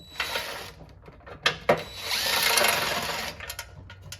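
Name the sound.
power tool removing transmission pan bolts, Chevrolet Silverado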